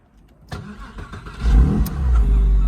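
A 2000 Porsche 911 Carrera with a modified exhaust and manual gearbox cranks and fires up, then settles into a deep, loud rumble with a brief rev, close by and without talk.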